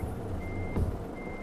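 A Renault Trucks T hauling a curtainsider trailer in Euro Truck Simulator 2 sounds a steady, high electronic reversing beep while backing up, repeating over a low engine rumble.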